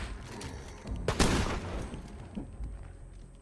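Shotgun blasts fired at zombies in State of Decay 2, a burst of loud close gunfire roughly midway, with a smaller shot shortly after over a steady game background.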